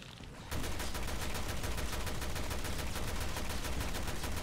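Rapid sustained gunfire from a weapon in the video game Resident Evil: Revelations 2, a loud, dense stream of shots that begins abruptly and continues without pause.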